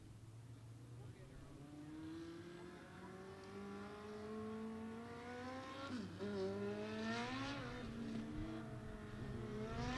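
Race cars running hot laps at Beckley Motor Speedway, a local short track, their engines rising and falling in pitch as they circle and pass, distant at first and then swelling louder, with an announcer talking over them.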